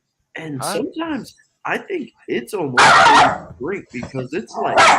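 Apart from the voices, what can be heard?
dog barking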